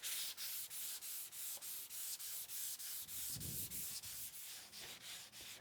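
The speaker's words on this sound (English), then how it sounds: "This thing really does a nice job sanding." Hand sanding of boat paint with a soft sanding block, a close, rhythmic series of scratchy back-and-forth strokes, roughly three per second, with no talking.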